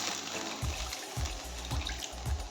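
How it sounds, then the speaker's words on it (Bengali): Water is poured in a few short glugs into a bowl of chicken momo filling with chopped beans, carrot and coriander, quiet and close, about four brief gushes in a row. "আমি এখন দিয়ে দিচ্ছি জল"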